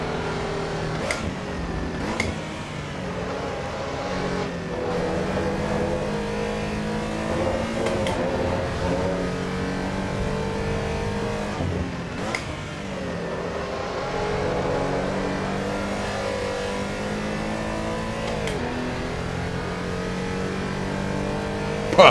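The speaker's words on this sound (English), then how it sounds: "This is still so much fun to drive this car." A race car engine in the sim racing game Assetto Corsa Evo drones steadily and close for over twenty seconds, revving up and down through repeated gear changes with sharp shift blips, no talking.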